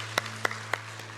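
A few sparse, separate claps from a congregation at a church service, about four sharp hits spaced evenly over a low steady hum.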